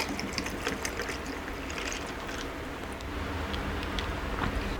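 Cold brew Mocha Mint coffee concentrate pours steadily into a glass in a continuous, close liquid stream lasting several seconds, with a bright splashing trickle throughout.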